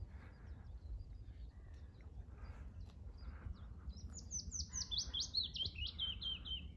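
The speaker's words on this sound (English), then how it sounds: "That's a willow warbler." A willow warbler sings at Strumpshaw Fen, its clear descending cascade of sweet notes rising above a steady low outdoor rumble in the second half, with softer chirps earlier on.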